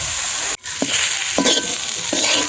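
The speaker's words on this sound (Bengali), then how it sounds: "এরকম ডালটা মানে মাখা মাখা করে নামাতে হবে, এবং কি ডালটা যাতে গোটা থাকে।" Boiled lentils are stirred in a pot until mushy but still whole. Three distinct spoon scrapes sound over a soft, steady bubbling sizzle, close and alone.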